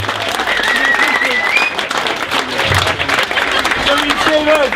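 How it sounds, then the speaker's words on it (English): Wedding guests applauding the best man after the speeches, dense sustained clapping from a room full of people with cheers and chatter mixed in, loud and close throughout. "Hey guys, a big round of applause for Steve."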